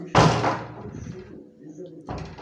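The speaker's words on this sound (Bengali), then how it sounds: "ঝড়োয়া বাতাস হাওয়া চলছে দরজার শব্দ হচ্ছে" A loud door bang near at hand in a gusty storm wind, followed by rumbling wind and a second thud a couple of seconds later.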